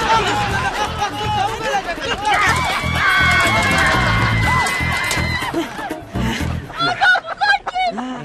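Chickens clucking and fowl calls in a coop, mixed with steady voices talking over them and some bustle; a sustained call rises mid-clip before quick, sharper sounds near the end.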